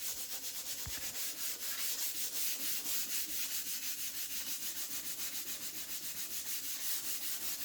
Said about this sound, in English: using the piece of sandpaper, I just go in and hand sand everything.